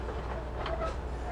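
Passenger train heard from inside a sleeper compartment: a steady, low rumbling drone with faint rattles, continuous and fairly quiet, with no voices.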